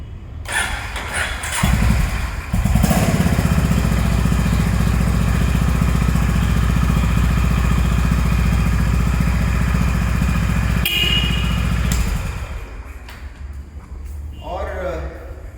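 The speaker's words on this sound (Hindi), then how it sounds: "इसके एग्जॉस्ट की आवाज़ भी सुन लेते हैं" A Honda H'ness CB350 motorcycle engine fires up and settles into a steady, loud idle with a throaty exhaust rumble, then cuts off and a voice speaks.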